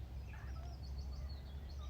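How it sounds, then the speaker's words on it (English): Birds calling outdoors in a calm natural setting, several thin chirps and warbles drifting at a moderate distance over a steady low hum. "right now, in this moment, there is an abundance of birds around me"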